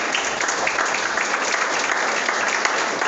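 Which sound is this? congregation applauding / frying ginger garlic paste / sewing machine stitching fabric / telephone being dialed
congregation applauding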